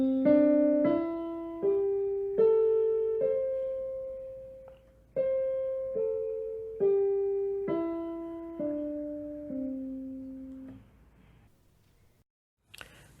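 A C pentatonic scale of Western music is played on a pitched, sustained instrument, climbing note by note in a steady rhythm and then descending, each tone ringing and fading before the next, with no voices.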